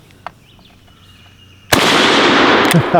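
A bolt action service rifle fires one loud, close shot after a quiet lead-in, the blast cutting in abruptly and ringing out with a sustained roar of echo to the end.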